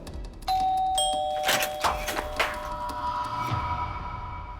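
An apartment doorbell rings, several electronic chimes with ringing tones held over a quiet background. Soft knocks or clicks follow as the tones fade.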